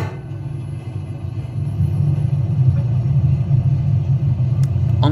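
A low steady mechanical rumble and hum that swells slightly and holds, a 2008 lift descending in a shopping centre, close and without speech, ending with a faint click.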